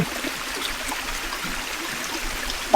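Strong mountain stream on Mount Balagbag rushing steadily, a dense continuous roar of flowing water, close and unbroken for the whole stretch with a brief knock near the end.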